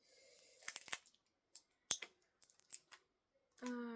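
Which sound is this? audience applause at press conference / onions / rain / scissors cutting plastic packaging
scissors cutting plastic packaging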